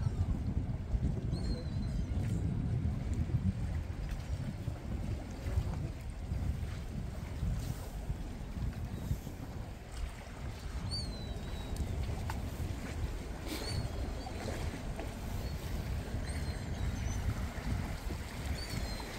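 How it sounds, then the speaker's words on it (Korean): Strong wind and high waves at sea while out fishing on a boat, a continuous rumbling roar of wind buffeting the microphone over churning water, steady and loud throughout. "파도가 높고 바람이 너무 많이 불고 있습니다"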